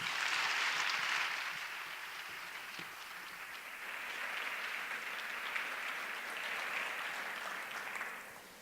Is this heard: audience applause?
yes